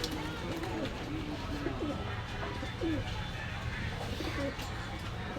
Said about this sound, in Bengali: দর্শক, এই এক পেয়ার টেডি কবুতর আছে